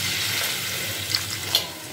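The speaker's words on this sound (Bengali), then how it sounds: "এবার আমি পরিমাণ মতো এতে জল দিয়ে দিচ্ছি।" Water pours steadily into a pot of jackfruit and prawn curry with potatoes, a continuous close splashing hiss lasting a couple of seconds.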